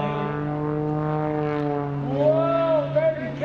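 Propeller engine of an MX-2 aerobatic airplane during an airshow performance, a steady droning whine that rises and bends in pitch as the plane maneuvers, with a commentator's voice mixed in.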